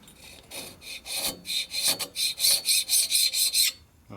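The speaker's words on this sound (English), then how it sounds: "High carbon steel scraper. No, that's solid carbide." A solid carbide scraper rasps across a Harley-Davidson Evo engine part during a motor rebuild, with a run of about a dozen quick, rhythmic scraping strokes, close up and alone.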